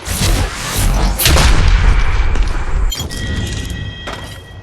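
Heavy gunfire and booming explosions from a mobile battle royale shooter, Apex Legends Mobile, loud and dense for most of the stretch, with a sharp burst near the middle and fainter shots and electronic tones toward the end.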